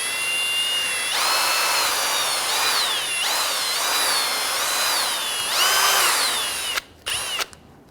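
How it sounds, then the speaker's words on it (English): A drill spins a small bore brush inside the brake caliper ports of a Nissan Frontier, whining in bursts that rise and fall in pitch as it works, then stops with a couple of short spurts. "use our small bore brush and clean out these ports"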